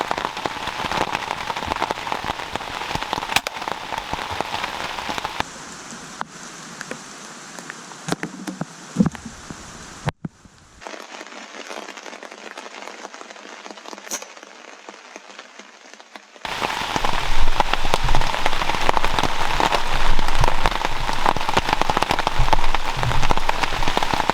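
Steady rain falls on outdoor surfaces, a dense continuous patter and hiss with scattered sharper drops, shifting in level as the recording cuts between quieter and louder stretches.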